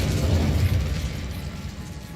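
The Incendio fire spell in Hogwarts Legacy bursts with a dense, rumbling whoosh of flame, loud and sustained for about two seconds before gradually easing off.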